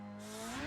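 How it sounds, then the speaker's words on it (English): A Honda K20 engine revs hard and climbs in pitch as VTEC kicks in, a loud, close, rising wail over about half a second. "The VTEC kicked in and we fucking K20 swap."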